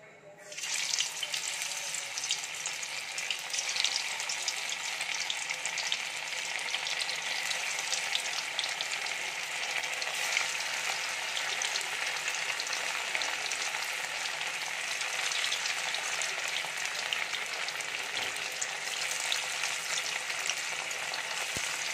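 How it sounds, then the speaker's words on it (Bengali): Paneer pieces frying in hot white oil in a kadai, a loud, steady, continuous sizzle from start to end with no talking. "আর এই যে মেখে রাখা পনিরগুলো আমি এক এক করে তেলের মধ্যে দিয়ে দেব।"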